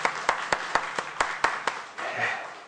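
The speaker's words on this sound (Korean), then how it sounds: "하나님께 영광의 박수 돌립니다." A church congregation at a Sunday service claps in unison, about eight sharp, evenly spaced beats, then dissolves into a softer, scattered applause.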